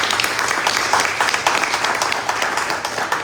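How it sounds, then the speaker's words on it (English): Event audience at a young professionals gathering giving a round of applause, brisk close clapping from many hands, steady and fairly loud throughout the short stretch. "please give a round of applause for the Chamber"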